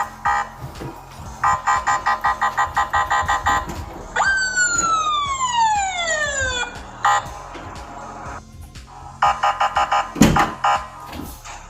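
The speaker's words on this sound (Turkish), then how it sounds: "Polis sireni mi o?" A police car siren in a video game about a burglar in the house cycles through rapid pulsing yelps, long falling wails and more yelps, fairly loud and close, with a brief thump near the end.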